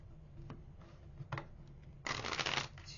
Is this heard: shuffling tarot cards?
yes